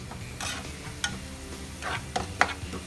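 A spoon stirs a garlic, ginger, cumin and onion paste frying in a pan, giving soft scraping strokes and a few sharp clicks over a faint steady sizzle, with no talk.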